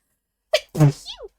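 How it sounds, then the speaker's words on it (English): A single sudden sneeze, loud and close, with a sharp intake followed by the explosive burst, alone in silence. "That sneeze came out of nowhere."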